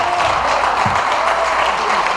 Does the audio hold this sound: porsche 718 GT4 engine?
no